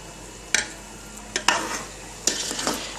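Jaggery syrup simmering in a pan while a spoon stirs it, with a low bubbling sizzle under several distinct scraping strokes of the spoon against the pan, close by and without talk.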